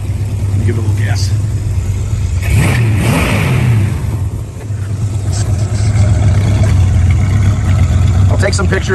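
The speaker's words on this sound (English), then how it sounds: "Let me give it a little gas." An original C-code muscle car engine is revved with a little gas, swelling into a roar near the start, dropping back briefly, then rising again, close and loud.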